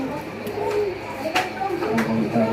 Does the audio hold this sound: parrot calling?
yes